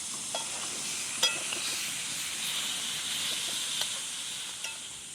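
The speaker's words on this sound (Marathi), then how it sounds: "चांगली तिला परतून घेते तेल टाकून" Prawns sautéing in oil make an even, continuous hiss and sizzle, broken by a few faint clicks of a stirring utensil, heard up close with no speech.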